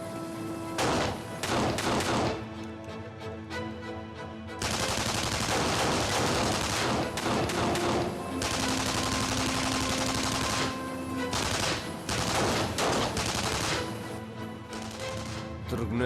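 Loud bursts of automatic gunfire and fusillades fill a Macedonian action film scene, rapid volleys repeating with brief pauses and crashes, dense and close throughout.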